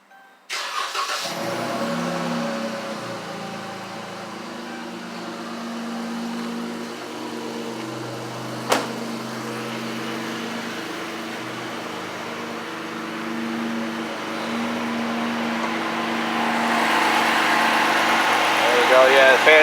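A car engine cranks and starts with the hood open, then settles into a steady mid-pitched idle with radiator fans running on a hot day, heard close for many seconds while someone speaks over it.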